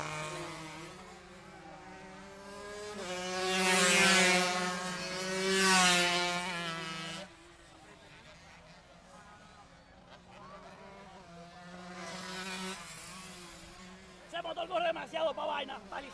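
135cc racing motorcycles at a motorcycle road race. Their engines rise loud and high in pitch as bikes pass close by, then fade, with revving machines returning later. An announcer talks over the engine noise.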